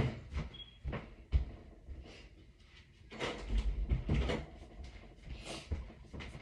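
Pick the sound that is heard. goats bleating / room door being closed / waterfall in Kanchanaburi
room door being closed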